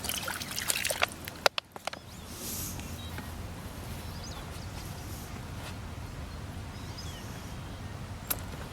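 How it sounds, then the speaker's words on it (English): Water poured onto soil for an infiltration test, with a few sharp knocks and splashes at first, then a steady soft trickle and gurgle running on throughout, close and fairly quiet, with no talk. "I'm going to start this as soon as we pour that water in."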